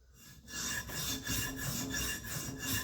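A tanto-tipped EDC knife edge is drawn along a sharpening stone in steady, repeated rasping strokes, close and fairly quiet, with no speech.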